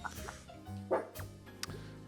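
A pet dog named Toffee gives a few fairly faint barks and yips from somewhere off in the house, seemingly worked up at gardeners outside, with no talking over them.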